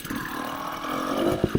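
A 2024 Beta 300 RR Race Edition two-stroke dirt bike fitted with an RK Tek head, heard running at a steady, buzzing mid-pitch drone on a trail ride with a couple of sharp blips near the end.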